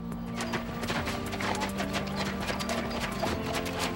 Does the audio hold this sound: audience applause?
no